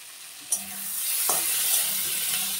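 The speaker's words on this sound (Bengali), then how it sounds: "ভেন্ডি একদম কষানো হয়ে গেছে" Okra (bhindi) stir-frying in a pan with salt, a steady close sizzle running throughout, broken by two scraping stirs of a spatula, with no talking.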